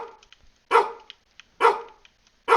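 Barking of a placeholder dog in a video game test room: three loud, sharp barks spaced roughly a second apart, each followed by softer clicks and yips.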